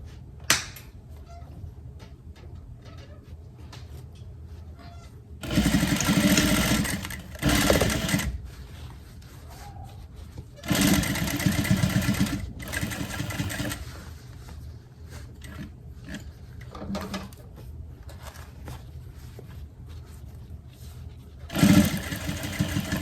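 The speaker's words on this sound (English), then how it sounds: "And then we're gonna gently sew as we go along." A sewing machine stitches a ruffle layer skirt in several loud mechanical bursts of whirring, separated by quieter pauses, close to the listener.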